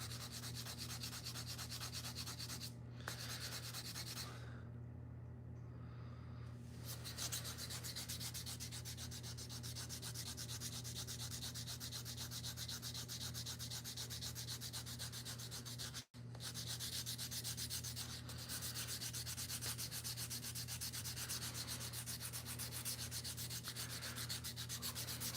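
Steady, continuous sanding on a micarta slingshot frame, a dense even rasping hiss that runs for the whole stretch with only brief momentary pauses, close and loud with no talking.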